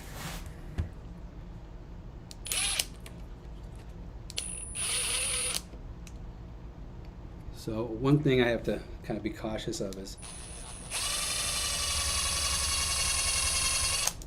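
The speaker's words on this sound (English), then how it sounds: "I'm going to use a power drill." A power drill whirs in short bursts, then runs steadily near the end, with a person talking briefly in between.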